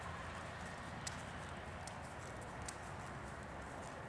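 Steady clip-clop of a horse walking, faint and regular, over a constant background hum with no talking.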